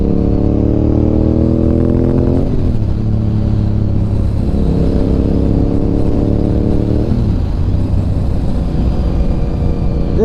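A 2004 Honda RC51 Nicky Hayden Edition sport motorcycle idles close by, its fuel-injected V-twin engine rumbling steadily, with two blips of the throttle that lift the revs and then let them fall back.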